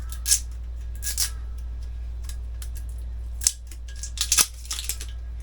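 Crinkly plastic wrap being peeled off the top of a CO2 cylinder for a home soda maker, a scattering of short, sharp crackles and snaps close by, with quiet gaps between them and no talking.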